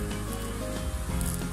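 Aloo paratha frying in soybean oil gives a continuous, close, fairly loud sizzle under a dense low hum with no pauses.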